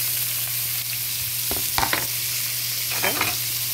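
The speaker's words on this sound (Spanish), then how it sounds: "Aquí yo le voy a poner la cebolla y el chile." Thick strips of onion and poblano chile frying in a pan, a bright continuous sizzle with a few bursts of stirring and scraping, close by and with no talking.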